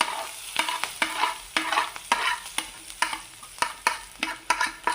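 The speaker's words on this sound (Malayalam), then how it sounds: "ഇത് നന്നായി ഒന്ന് നമുക്ക് ജസ്റ്റ് ഒന്ന് മിക്സ് ചെയ്തെടുക്കാം" A crushed garlic, green chilli, coconut and turmeric mix being stirred in a pan, with a spoon scraping in quick repeated strokes over a light sizzle, close and lively, with no talking.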